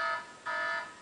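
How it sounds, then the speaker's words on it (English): A phone alarm tone chosen for waking up, playing loud multi-tone electronic beeps in two pulses, close and with no speech over it. "So the alarm is very loud."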